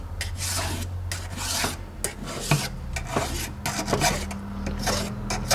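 A file rasps back and forth across a chainsaw bar to clear a burr, with repeated short scraping strokes in an uneven rhythm, close and fairly loud.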